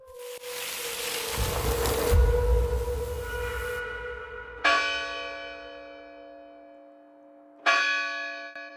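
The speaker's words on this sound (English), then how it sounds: "Can you hear the bells of Fatima?" Large church bells ring out at Fatima, Portugal, first in a booming clang with a rumble, then two more strikes whose long metallic hum lingers and fades.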